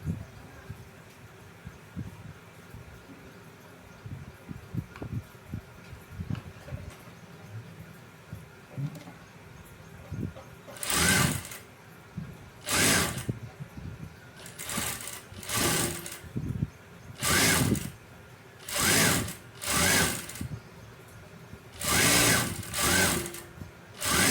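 A sewing machine stitches a folded piping joint in short, loud bursts of rapid stitching separated by brief pauses, over quieter handling noise at the start.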